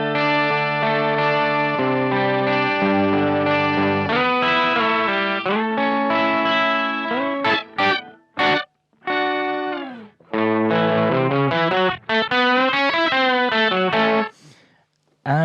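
Electric guitar through an octave pedal, giving a doubled 12-string-like tone with audible artifacts: melodic picked phrases and chords, some short choppy stabs and pauses midway, played alone and fairly loud.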